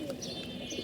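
Domestic pigeons coo softly in a short, low, throaty murmur, with faint background noise around them.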